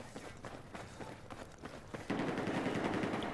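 Rapid video game gunfire, a quick rattling burst of shots followed by a denser sustained stretch of fire, moderately loud with a busy game background and no talk.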